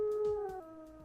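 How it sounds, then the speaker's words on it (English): Coyotes howl in the distance as a sound effect in an audiobook, a long sustained tonal howl with overlapping higher cries, steady and fairly faint. "A long, drawn-out howl suddenly broke the silence."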